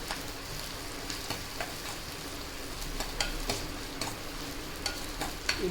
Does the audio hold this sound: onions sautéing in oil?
yes